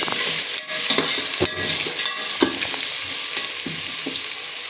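Onions fry in a pan with a steady, close sizzle, broken by repeated scraping stirs of a spoon against the pan.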